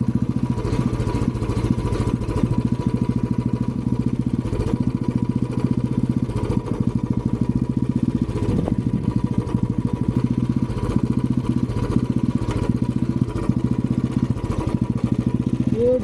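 A Royal Enfield Bullet motorcycle engine, stalling and jerking with low engine oil, runs continuously nearby, loud and rough with a chugging, uneven throb that holds steady throughout.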